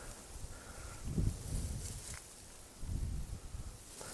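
Dry, ripened rye stalks rustling in a field: a soft, crackly swishing that swells and fades twice, close to the mic and fairly quiet, with light wind noise.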